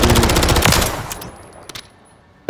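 Rapid automatic gunfire from Call of Duty Modern Warfare III, a loud dense burst that cuts off after about a second, followed by a few sparse shots and a sharp final report.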